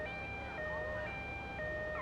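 An ambulance siren in the video game GTA Vice City wails continuously with a two-tone alternating pitch, loud and steady over game background noise.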